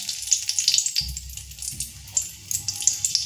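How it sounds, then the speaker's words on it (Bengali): Whole garam masala, cumin and a dried chilli sizzle in hot oil as a tempering, with crackling pops over a low bubbling bed, close and moderately loud, no voice. "তো ফোড়নটা একটু ভাজা হতে দেব।"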